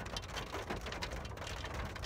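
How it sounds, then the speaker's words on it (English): Heavy rain pours down steadily outdoors after a sudden shower, a dense, even hiss of drops hitting the ground that stays constant and fairly close throughout, with no voices. "You guys see how hard the rain is falling?"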